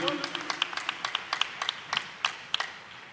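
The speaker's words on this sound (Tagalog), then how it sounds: "Isang malakas na palakpak para sa ating mahal na Panginoon, mga minamahal." Congregation applause at a Filipino church worship service, a moderate run of rhythmic, evenly spaced clapping with sharp individual claps standing out, heard fairly close over a low background.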